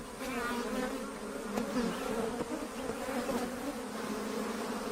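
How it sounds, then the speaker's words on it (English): African honeybees swarm around a hive built inside a tree in the African bush, producing a dense, continuous droning buzz with no pauses, steady and moderately loud. "African honeybees have built a hive inside a nearby tree."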